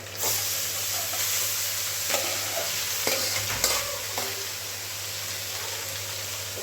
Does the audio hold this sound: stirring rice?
yes